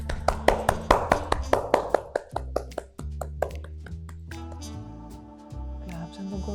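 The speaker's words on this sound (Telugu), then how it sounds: "క్లాప్స్ ఎందుకు కొడుతున్నావు అమ్మా?" A mother claps her hands at home while watching an IPL cricket match, about a dozen quick, rhythmic claps close by that slow and fade, followed by sustained tonal sound from the broadcast.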